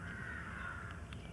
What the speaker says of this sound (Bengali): গ্রামে বাড়ি বলে তোমরা নানা পাখি ও মোরগের ডাক হয়তো পেয়েছো